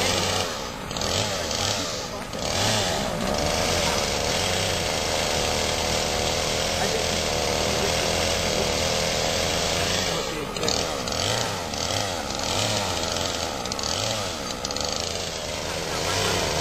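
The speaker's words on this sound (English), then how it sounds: "Jason up high with the chainsaw trimming the branches" A chainsaw trimming tree branches up high drones steadily throughout, its engine buzz rising and dipping as it cuts, heard from a moderate distance.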